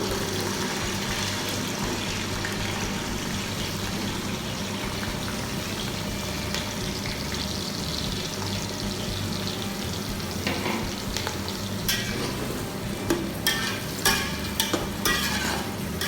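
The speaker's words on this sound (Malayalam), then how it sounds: "അരിഞ്ഞു വെച്ചിരിക്കുന്ന ഈ സവോള ഇതിലേക്ക് ഇട്ട് കൊടുക്കാം." Chopped onions fry in hot oil and spices for a vegetable kurma, a dense, steady sizzle close up that runs throughout, with occasional clinks and scrapes of stirring toward the end.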